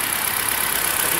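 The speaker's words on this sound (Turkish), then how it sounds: "Biraz önce 2000 devir bandına çalışırken şimdi 1000 devir bandına kadar düştü." A car engine idles steadily after a Liqui Moly throttle body cleaning, a loud, even hum with no voices.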